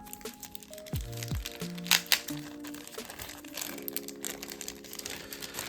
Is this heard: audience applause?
no